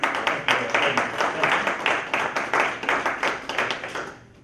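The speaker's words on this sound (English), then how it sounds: "Let's give our panelists a round of applause" Steady rhythmic clapping for panelists at a community economic forum, a dozen or so even beats from a small group, close by, trailing off at the end.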